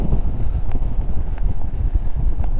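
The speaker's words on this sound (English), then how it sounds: "Wind is horrible out here." Strong wind buffets the microphone outdoors on a UK metal-detecting dig, a constant low rumbling roar with gusty fluctuations and no speech.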